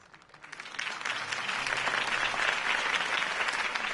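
Crowd applause following a mayoral campaign speech, clapping swelling from quiet to a full, sustained ovation heard alone.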